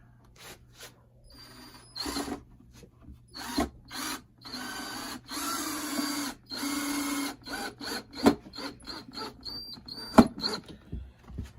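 A power drill drives screws into a wooden patio railing tray, sounding in a series of short whirring bursts separated by brief pauses, moderately loud and close, with no talking.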